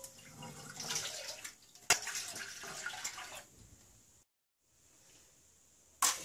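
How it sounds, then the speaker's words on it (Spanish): Two cups of milk are poured out for a béchamel sauce, with a soft, splashy liquid stream at low volume that stops briefly before one last splash. "Preparamos la salsa bechamel y ponemos 2 tazas de leche"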